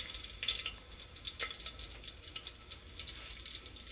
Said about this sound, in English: I'm going to let it cook for at least 2 to 3 minutes till all my jeera is spluttering nicely